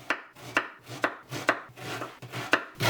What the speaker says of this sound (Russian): Мне понадобится половинка луковицы. Нарезаем вот так на три части и нарезаем.